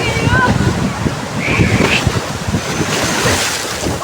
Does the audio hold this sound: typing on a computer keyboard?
no